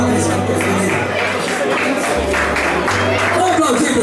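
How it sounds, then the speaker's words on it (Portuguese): Crowd at a mountain bike race award ceremony applauds steadily, a moderate wash of clapping and chatter running under background music with low tones. "Vamos aplaudir, pessoal, a família merece."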